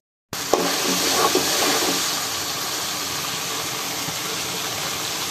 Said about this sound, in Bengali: এখন মশলা কষানো হচ্ছে।